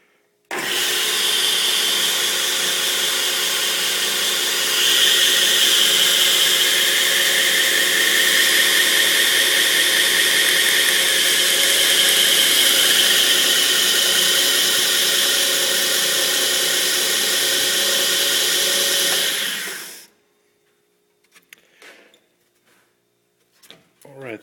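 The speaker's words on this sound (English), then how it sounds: "I'm just going to give an example of the tracking while the grinder is on, both left and right" An NWGS belt grinder runs with its belt tracking being adjusted left and right, producing a loud, even whirring roar for about twenty seconds before spinning down, followed by a few faint clicks and knocks.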